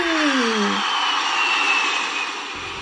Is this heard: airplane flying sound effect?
yes